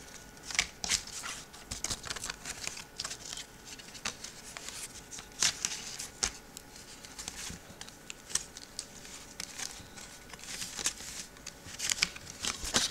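A promo trading card being worked out of a plastic blister pack, with close crinkling, crackling and scraping of plastic in irregular bursts throughout, fairly quiet and with no talk.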